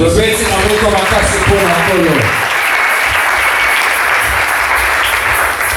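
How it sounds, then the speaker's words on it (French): An audience breaks into loud, sustained applause and cheering that fills the room, with a voice heard briefly at the start before the clapping takes over. "Acclamons très fort."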